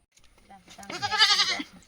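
A goat bleats close by, a wavering, nasal cry lasting about a second, after some brief quieter sounds.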